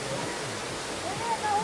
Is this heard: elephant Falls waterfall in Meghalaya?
yes